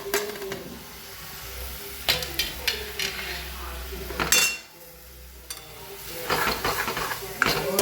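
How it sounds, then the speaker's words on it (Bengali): A spoon scrapes and clinks against a pan while grated coconut cooks in creamy milk for sweets, irregular metallic taps and scrapes over a low background, with someone speaking between strokes. "এটাকে একদম নাড়তে থাকতে হবে যাতে লেগে না যায়।"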